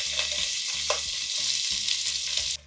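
Onions drop into oil with frying whole spices like biryani flower, cardamom, cloves and bay leaf for a mushroom biryani, giving a bright, continuous sizzle over steady background music until it cuts off.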